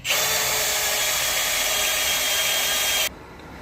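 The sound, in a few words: drilling through axle casting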